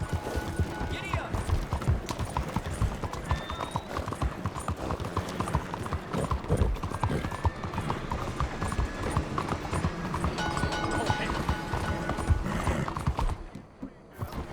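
Horse galloping in Red Dead Redemption 2, a steady rapid clip-clop of hooves with an occasional whinny, loud and continuous over game ambience and music, fading out near the end while a voice speaks.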